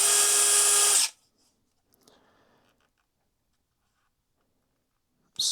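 A DeWALT DCF922 18V XR brushless impact wrench runs briefly in its most powerful mode 2, a loud, high whirring burst for about a second, followed by quiet handling clicks and a short restart at the end.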